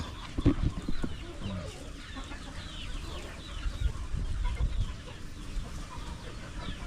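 Several chickens cluck and murmur nearby at a moderate level, with scattered louder squawks early on and a soft outdoor background throughout.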